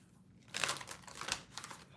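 A brief burst of papery riffling and crinkling as tarot cards are shuffled, close by and quiet, lasting about a second.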